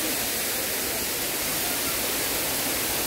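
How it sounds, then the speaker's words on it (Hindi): Small, slow waterfall in a garden setting, a steady broadband rush of falling water close by, continuous and even throughout with no voices over it. "स्लो स्मॉल वाटरफॉल है"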